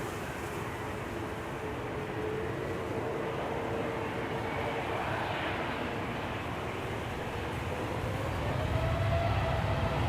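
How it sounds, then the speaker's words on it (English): An Iberia Express Airbus A321neo departing Amsterdam Schiphol produces a broad, steady jet roar with a faint rising whine, distant and sustained, swelling slightly toward the end. "Iberia Express, A321neo, off to Madrid pretty soon."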